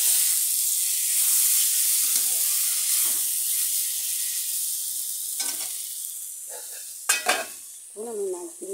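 Ingredients sizzling and hissing steadily in a hot pan while cooking a fish dish, with a few brief scraping stirs and clinks near the end, close and continuous.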